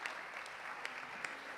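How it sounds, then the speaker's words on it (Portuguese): Applause from a church congregation during a Sunday service with baptisms and child presentations, a dense, steady patter of many hands clapping at moderate distance, with a few sharper claps standing out. "Por favor, uma salva de palmas."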